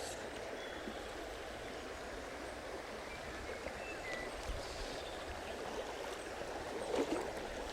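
Fast-flowing river riffle water rushes in a steady, even wash, fairly quiet and continuous, with a brief small splash near the end.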